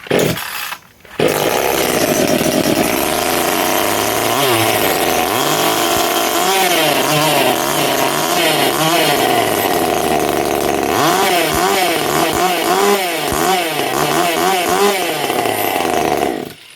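A clone of the Echo 2511T top-handle chainsaw runs loud and close with a high idle, revving repeatedly in rising and falling bursts that last throughout.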